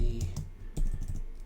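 Typing 'Lamborghini Countach' into a search box on a computer keyboard, a quick run of key clicks over a low background hum, with no talking.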